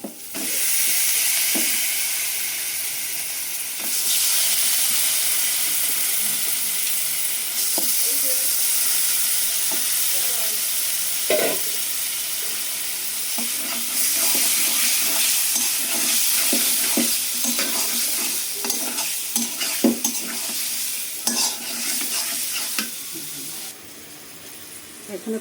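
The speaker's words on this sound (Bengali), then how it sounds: "মুরগিটা দিয়ে এখন কষাই নেব আমি।" Chicken pieces sauté in oil in a pan on a foggy day, a steady loud sizzle with repeated scraping stirs throughout, and faint voices in the background.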